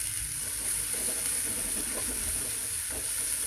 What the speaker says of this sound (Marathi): थोडासा ब्राऊन कलर येईपर्यंत आपल्याला हे तेलामध्ये व्यवस्थित परतून घ्यायचं